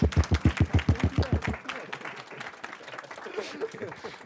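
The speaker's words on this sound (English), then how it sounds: "Can we give them a big round of applause for coming here?" Brief rhythmic clapping at a student security club meeting, about a dozen quick claps for a second and a half, then fading into the murmur of people talking.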